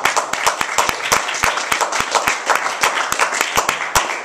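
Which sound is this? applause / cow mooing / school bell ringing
applause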